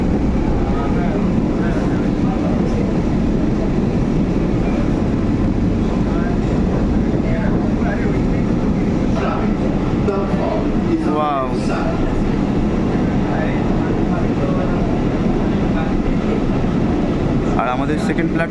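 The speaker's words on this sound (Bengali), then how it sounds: "ফাইনালি আমাদের মেট্রো ছেড়ে দিয়েছে দেখতে পাচ্ছ তোমরা" Kolkata metro train pulling out of Garia toward Ruby, a loud steady rolling roar and hum filling the whole stretch with faint squeals, heard from inside the carriage while a person talks over it.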